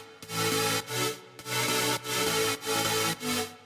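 Future bass synth chords processed with EQ, OTT compression and reverb: dense bright sustained chords swelling in rhythmic pumping bursts, loud and upfront, nothing else present.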